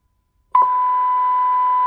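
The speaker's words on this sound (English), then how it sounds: "send a signal to it from the signal generator and see how sensitive it is" Test tone from a signal generator received through a Cobra 29 LTD Classic AM/FM CB radio, a steady pure beep that starts abruptly and holds unbroken, clean and fairly loud.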